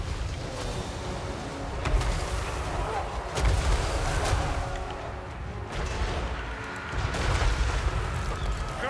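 Battle sounds from the Total War: Warhammer 3 video game, with gyro bombers and artillery firing in repeated heavy booms and blasts over a dense rumbling din.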